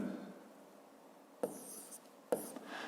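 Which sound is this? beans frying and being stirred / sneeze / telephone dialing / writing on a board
writing on a board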